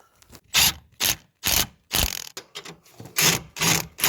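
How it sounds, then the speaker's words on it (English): A hand ratchet tightens engine bolts while an engine is fitted into a salvage Audi A3 Black Edition, giving a series of close, sharp clicking strokes in a steady rhythm with short gaps between them. "I hand torqued it all down, all 3 bolts"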